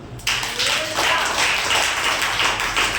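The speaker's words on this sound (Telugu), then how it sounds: "చప్పట్లు కొడతాం" A congregation claps hands together during a church service, a steady patter of many palms that starts abruptly and carries on evenly throughout, fairly loud and close.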